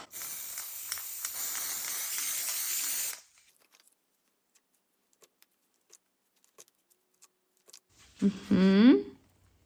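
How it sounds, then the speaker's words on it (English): A steady broadband hiss of black acrylic spray paint through a brick stencil lasting about three seconds, followed by quiet, scattered taps and then a brief rising tonal squeak. "I'm going to take my black acrylic spray again, spray onto this brick stencil"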